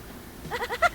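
A goat bleats close by, a short wavering cry that rises and grows louder toward the end.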